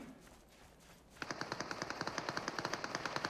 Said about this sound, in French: Ça tire pas loin, hein, dans le champ, hein, dans le Westland.